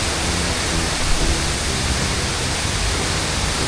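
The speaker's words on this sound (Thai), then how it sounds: "น้ำตก บุญยบาลครับ จังหวัดระนอง" Bunyaban waterfall in Ranong, Thailand, gives a steady, dense roar of falling water, loud and unbroken throughout with no voices.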